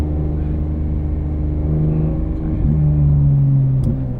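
A Porsche 991.2 GT3 RS flat-six accelerates, heard from inside the cabin as a loud, steady engine drone whose pitch climbs, dips briefly at a shift and climbs again.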